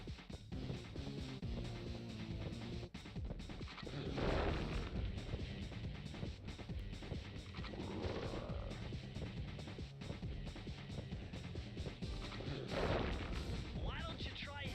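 An enemy in Sly Cooper and the Thievius Raccoonus fires at the player, repeated booming cannon-like shots and bursts over game music, with a voice talking over them.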